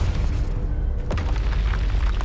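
A Confringo spell explosion in Hogwarts Legacy, a sharp magical boom near the middle layered over a steady rumbling battle din, close and fairly loud.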